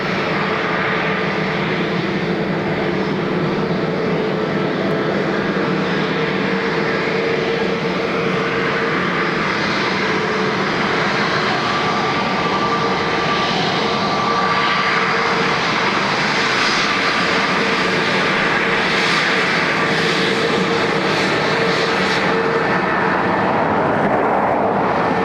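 Vueling airliner landing on runway 28 left at Dublin Airport, a loud continuous engine roar that swells slightly toward the end, steady and sustained without talk.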